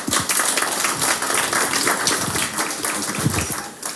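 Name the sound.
applause from the audience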